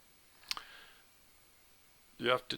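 A computer mouse clicks while using Microsoft Teams, a quick double click early on and another sharp click near the end, quiet and close, alongside a brief stretch of speech.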